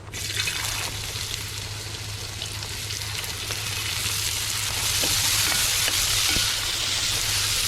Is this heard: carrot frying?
yes